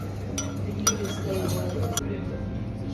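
A spoon clinks against a bowl of rasam, a few bright taps scattered over a few seconds, close by, under light talking and background hum.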